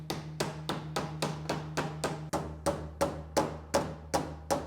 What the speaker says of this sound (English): I'm gonna have to take a little bit more of a drastic measure and grab a hammer.